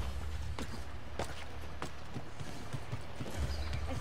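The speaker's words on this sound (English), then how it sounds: "Bye, horsey." Horse hooves clip-clop in a steady, quick rhythm in Assassin's Creed Brotherhood, moderately close and fairly quiet under a low background hum.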